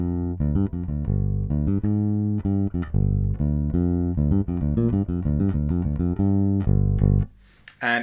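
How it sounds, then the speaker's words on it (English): A rare 1986 PRS Bass 4 played passive on its middle pickup alone runs through a busy line of clean, punchy notes, close and loud, ending with a brief scrape. "let's listen to what just that pickup sounds like on its own,"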